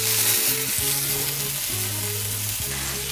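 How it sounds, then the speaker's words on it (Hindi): Spicy lamb chops sizzling on a grill over a medium-to-low flame, a steady loud hiss of frying fat throughout, close up with a faint tonal hum underneath and no talking. "और अब इस तरीके से हम मीडियम टू लो फ्लेम पर ही इसको ईच साइड 3 मिनट्स तक कुक करेंगे।"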